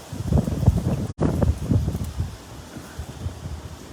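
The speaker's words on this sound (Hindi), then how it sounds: "बहुत ही तेज हवा चल रही है।" Very strong outdoor wind pounding the microphone in loud, irregular gusts with rustling, strongest in the first two seconds and then easing to a softer, steadier blow, with no voices.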